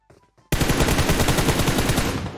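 Honey Badger rifle firing full-auto in PUBG Mobile: a rapid, loud, unbroken burst of shots after a brief moment of faint sound. The rhythm is fast and dense, like a sewing machine.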